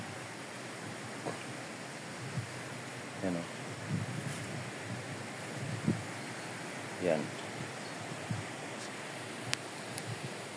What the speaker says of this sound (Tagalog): Tuloy-tuloy pa rin yung daloy ng tubig